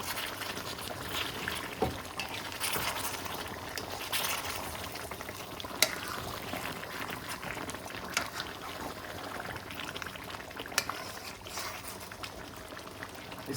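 A pot of chicken achari bubbles hard on high heat, a steady dense sizzle and simmer with occasional pops, close and moderately loud with no talking.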